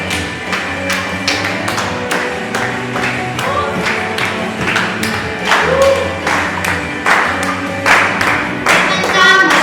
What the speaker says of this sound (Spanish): Vamos a usar nuestras palmas en esta mañana para Él